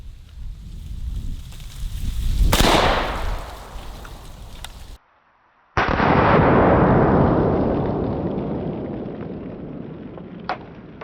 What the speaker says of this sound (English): shooting this one out of the AK-74